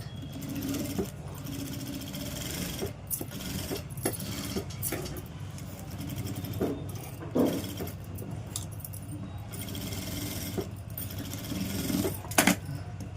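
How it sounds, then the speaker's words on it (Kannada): Sewing machine stitching blouse canvas onto main fabric, a steady close mechanical whirr in runs broken by brief pauses and small clicks. "ಇದನ್ನು ಸುತ್ತಲೂ ಸ್ಟಿಚ್ ಮಾಡ್ಕೊಂಡು ಬನ್ನಿ"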